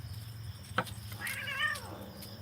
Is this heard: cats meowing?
yes